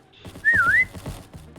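A person whistles a single clear, sliding note that rises and dips, loud and close, standing out over a low murmur of background noise.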